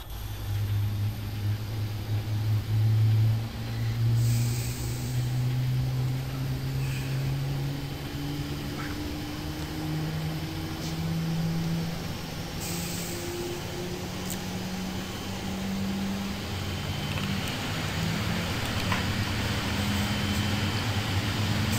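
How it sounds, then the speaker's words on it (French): Boeing 777 engine number two spooling up in the PMDG flight simulator, a steady droning whine with slowly rising tones over a constant rumble, sustained and moderately loud with no talking. "je vous invite à suivre à l'écran le démarrage du moteur 2"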